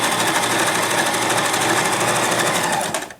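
A sewing machine stitching a duck pillow runs steadily at high speed for about three seconds with a fast rattling drive, close and loud, then winds down and stops abruptly.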